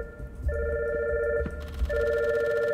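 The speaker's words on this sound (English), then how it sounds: "A communicator is ringing from this body. It's coming out of the pocket." A communicator rings from the pocket of a body in a video game, a steady electronic telephone-style tone that repeats in bursts, loud and close, with no talking over it.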